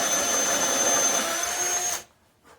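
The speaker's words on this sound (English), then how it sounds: "I punch this drill bit real hard to the end to grab and really jump through" A power drill whines steadily as its bit pushes through a bicycle fender during a fender install on a Rivendell A. Homer Hilsen, running loud and close for about two seconds before cutting off abruptly into near silence.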